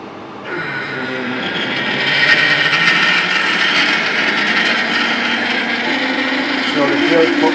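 A metal lathe parting stainless steel gives a steady, harsh metallic grinding and whine that swells after a quieter start and holds loud and continuous to the end.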